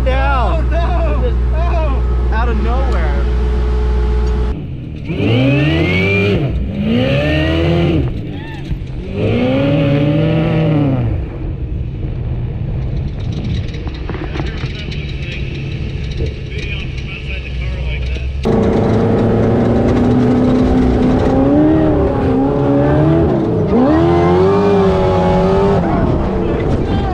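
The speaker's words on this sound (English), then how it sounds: "you've never been in a sand car" A sand car engine revs hard while driving, loud and close, with repeated rising and falling pulls and brief gaps between bursts of acceleration, and people talking over the engine noise.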